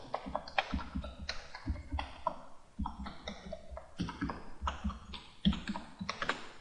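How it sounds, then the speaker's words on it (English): Rapid keystrokes clatter across a computer keyboard in uneven bursts, close and crisp, with short gaps between runs of taps. "I just went right across my keyboard."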